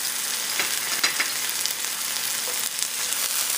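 Dried chilies, garlic, ginger and green chutney fry with onions for an okra curry, giving a loud, steady sizzle with crackling and stirring scrapes throughout, with no talking.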